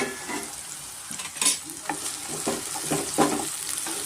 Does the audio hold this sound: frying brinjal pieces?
yes